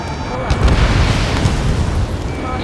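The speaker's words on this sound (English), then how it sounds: "Gunfire and the roar of jets echoing through the streets." Gunfire and roaring jets over a city under martial law in the Ace Combat 7 video game, a dense rumbling barrage with booming bursts and continuous low engine roar, loud and close.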